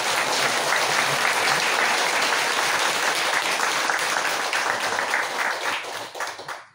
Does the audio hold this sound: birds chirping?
no